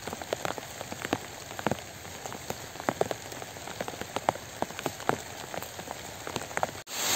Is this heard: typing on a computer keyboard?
no